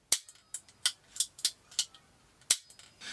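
An S410 air rifle, freshly given a full seal service, is cocked and fired: a close, dry series of about ten sharp mechanical clicks and snaps in an uneven rhythm, with no talking.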